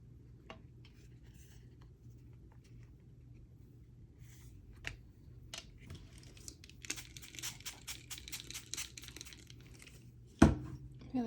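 Wet paper crinkles and tears during a craft session with Ranger Distress paints. Soft scattered rustles build to a dense crinkling stretch, then one sharp loud tear near the end. No one speaks.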